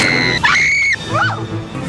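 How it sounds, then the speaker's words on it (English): A woman in a film scene lets out a loud, shrill scream that wavers and breaks into a second rising cry, close and piercing over a low background. "I swear speaking only in screams"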